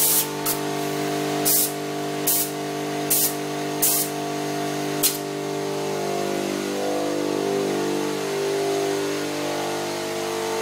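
Spray gun laying paint onto a car body during prep and painting, a series of loud airy bursts in the first half, each a second or less, over a steady background engine-like hum.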